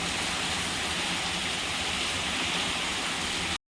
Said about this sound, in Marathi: बघा पाणी किती येतंय झजत झजत बघा किती पाणी पडतंय एवढा पाऊस पडतोय